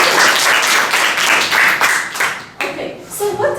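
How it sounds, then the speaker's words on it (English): A burst of loud clapping from a school class fills the classroom, then fades as a voice starts speaking. "big clap for Jumana."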